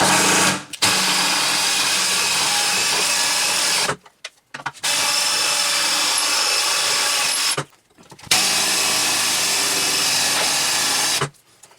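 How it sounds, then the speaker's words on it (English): A power drill with an old bit drills out screws inside a treadmill, whining continuously in three long bursts, stopping briefly between them, loud and close with a rough grinding edge. "There's no way of getting them out, so I'm just going to drill them out."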